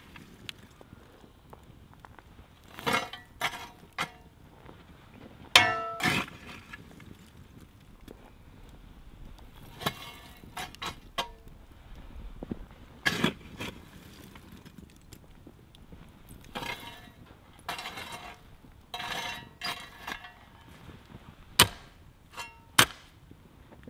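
Coals scooped from an outdoor camp fire pit make sparse, sharp clinks and scrapes scattered irregularly over a low, breezy background, fairly faint and without speech.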